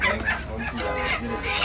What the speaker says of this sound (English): Oh, that chicken is big?